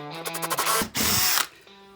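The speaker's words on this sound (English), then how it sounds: "for drilling a nice flat-bottomed hole named after the American Benjamin Forstner" A power drill with a Forstner bit bores a flat-bottomed hole for a candle sconce, heard as a short, close whirring burst that cuts off briefly and resumes, with no talk.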